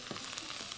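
Okra being stirred and sautéed in a pan gives a brief, close, steady sizzle with light scraping of the stirring.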